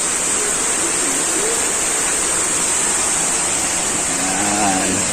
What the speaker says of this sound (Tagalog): meron silang mini falls dito